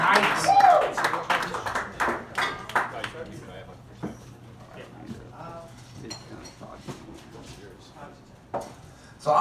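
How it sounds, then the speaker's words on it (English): Scattered clapping from a small open mic comedy crowd, with loose sharp claps strongest at the start and thinning out, while a voice talks over it. "Give him a round of applause,"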